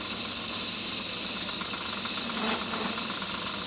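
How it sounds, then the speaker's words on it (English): Brass being turned and spun on a lathe, a steady machine hum with a faint rubbing, scraping tone that swells briefly partway through. "You can turn brass almost like wood."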